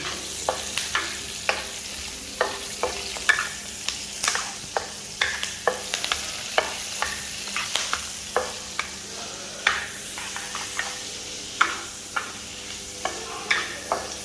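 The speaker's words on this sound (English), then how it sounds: "Just stir fry this chili" Chili being stir-fried in a pan for sambal belacan, the dried shrimp paste condiment: a steady low sizzle with regular, close spatula scrapes and taps on the pan, and no talking.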